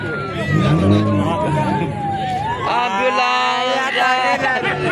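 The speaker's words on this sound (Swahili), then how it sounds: "Zimamoto hiyo, zimamoto. Zimamoto tunakuja." A wailing fire engine siren sweeps up and down, loud and close, over a busy street with voices and passing traffic.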